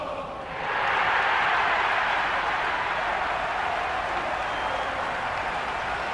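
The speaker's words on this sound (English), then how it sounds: "The crowd are making a heck of a lot of noise, even before the first ball's been bowled." A large stadium crowd in the cricket video game Cricket 26 roars and applauds continuously before the first ball, a dense, steady wash of cheering that swells early and holds loud throughout.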